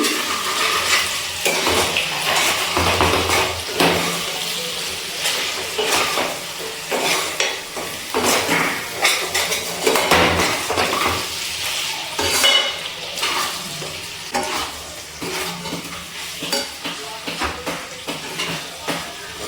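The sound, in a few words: stirring and frying chicken with spices in a kadai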